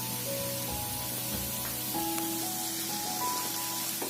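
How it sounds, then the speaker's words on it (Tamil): Grated coconut roasting in a pan for Tamil crab gravy, a soft steady sizzle and hiss held quietly under a faint background hum, with no talking. "சேர்த்து நல்லா வறுத்து எடுத்துக்கலாம் தேங்காவை"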